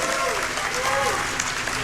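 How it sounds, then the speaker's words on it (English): An audience applauds during a Summer Games Done Quick 2025 speedrun of the Quake 64 remaster, with a steady patter of clapping under commentators who keep talking over it. "Everyone clap, by the way."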